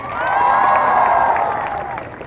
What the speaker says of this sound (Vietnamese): mọi người cho một tràng pháo tay đúng không ạ